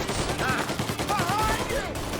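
Gunfire in the Mafia Definitive Edition game, a dense rapid volley of shots with sharp cracks over other game noise, brief and loud.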